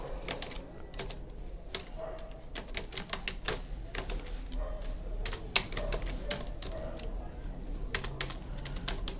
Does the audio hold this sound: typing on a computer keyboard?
yes